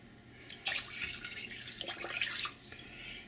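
Water pours and splashes into a pot of hot pot stock, a faint bright trickle in a few uneven bursts over about two seconds, with no talking.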